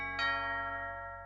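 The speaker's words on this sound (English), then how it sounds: "Just then the doorbell rang again." A doorbell in the Miffy cartoon rings once, a bright chime struck near the start that rings on and fades slowly over a steady tonal hum, no voices.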